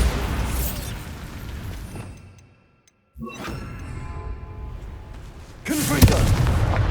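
A Bombarda spell blasts in Hogwarts Legacy: a loud crackling boom that fades into near silence, followed by a sharp magical shimmer and a second heavy burst near the end.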